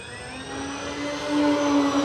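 An FMS PA-18 Super Cub RC model airplane with a 1.7 m wingspan, powered by a 4S battery, flies with a steady electric motor whine that holds a constant tone and grows slightly louder as it approaches.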